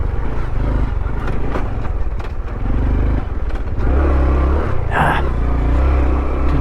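A Honda Trail 125 with a 15-tooth sprocket lugging in second gear out of an off-road corner, its low engine chugging loudly and close, with clattering and scraping from the trail and a sharp burst of noise midway.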